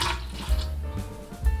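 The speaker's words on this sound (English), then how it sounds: "Now we put the water inside." Water pours into a mix of flour and eggs for gluten-free, milk-free lasagne dough, a short splashing trickle with low thumps from handling in a kitchen.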